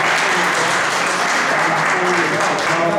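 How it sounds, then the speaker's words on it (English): An audience applauds a panel at a scam-awareness training session, loud steady clapping filling the room at constant level for the whole stretch, with a faint murmur of voices beneath. "let's give our panel a round of applause,"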